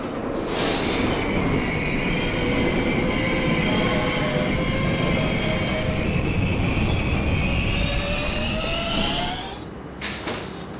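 R32 subway train on a C local run in the OpenBVE simulator, rumbling and roaring continuously with rising and falling whining motor tones, loud and close, easing off near the end.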